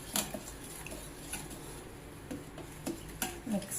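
Spoon stirring jaggery, black pepper, cardamom and milk together in a pot, giving soft irregular scrapes and clinks against the metal at close range, with no talk.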